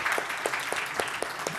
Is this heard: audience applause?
yes